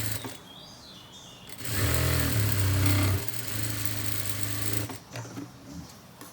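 Sewing machine stitching the panels of a long frock, a loud steady whirring burst of about three seconds between quieter pauses, with a lighter continuous run afterwards and no voices.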